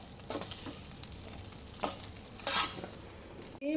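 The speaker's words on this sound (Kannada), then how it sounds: "ಆವಿಯಾಗುವ ತನಕ, ಇವ್ಯಾಪೊರೇಟ್ ಆಗುವ ತನಕ ನಾವಿದನ್ನು ಸ್ವಲ್ಪ ಫ್ರೈ ಮಾಡಬೇಕಾಗ್ತದೆ" Squid bondas in a pan sizzling steadily while a spoon stirs and scrapes through them, quiet close-up frying with intermittent stirring bursts and a clatter at the end.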